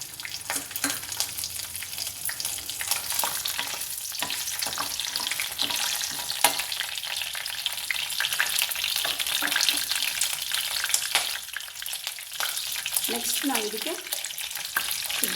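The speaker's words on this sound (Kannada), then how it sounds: "ಚಕ್ಕೆ ಲವಂಗ ಈ ಮಸಾಲೆ ಇಟ್ಕೊಂಡಿದ್ದೀನಿ ಇದನ್ನು ಹಾಕ್ತಾಯಿದ್ದೀನಿ ಈಗ" Cinnamon, cloves and whole spices frying in hot oil in a pan for chana masala, a steady close sizzle with occasional scraping stirs and crackles throughout, with no talk.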